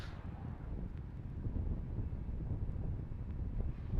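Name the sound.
gusty wind at Cape Canaveral launch site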